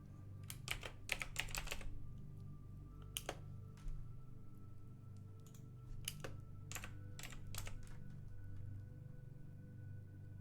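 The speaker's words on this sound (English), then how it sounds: "You like the keyboard clickies?" Typing on a clicky computer keyboard in quick clustered bursts of sharp keystrokes separated by pauses, close and crisp over a low background hum.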